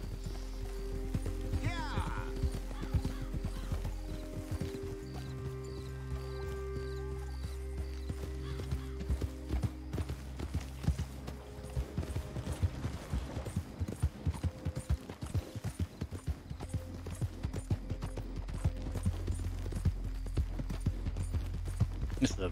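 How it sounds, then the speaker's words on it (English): Steady, unhurried hoof clip-clops of a horse in Red Dead Redemption 2 continue throughout, with an occasional whinny near the start, over a low ambient drone. "This is a very slow horse."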